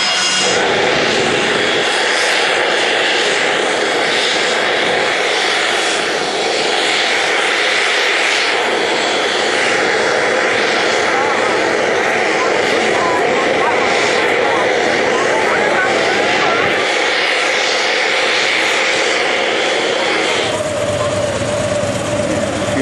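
Paul McCartney's jet arrives at Tullahoma Regional Airport for Bonnaroo, its engine roaring loud and sustained for the whole stretch, with voices talking over the noise.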